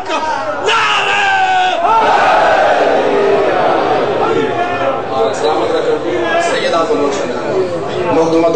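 A large crowd at a religious gathering in Talagang roars slogans in unison, loud and close, rising in surging shouted waves with chatter underneath.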